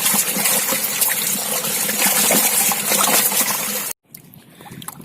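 Water pours out of a bucket used as a pond for farmed catfish (patin), a steady close splashing and trickling that runs for about four seconds, then stops abruptly, leaving a faint drip.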